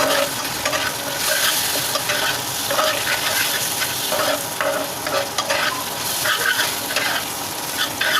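A garlic spice paste fries and is stirred in a pan, giving loud continuous sizzling with rhythmic scraping strokes of the spoon repeating across the whole stretch.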